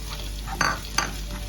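Four spoons of coriander powder tipped into hot coconut oil for a mutton bone curry, with the flame switched off, giving a steady soft sizzle and two brief louder hissing bursts as the powder hits the oil and is stirred.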